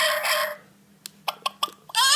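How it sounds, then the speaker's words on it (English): A toy farm book sounds an electronic chicken, with tinny clucks and a crowing burst, then a few short clicks and more clucking, close and loud with no talk. "Chicken."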